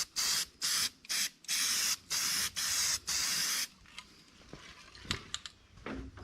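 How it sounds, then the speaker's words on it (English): Aerosol spray coating is applied into a narrow channel of a 1959 Dodge Coronet's bodywork in seven short, loud, evenly spaced bursts, followed by quieter handling clicks and rustles. "See if we can spray some of this stuff down inside of there a little bit."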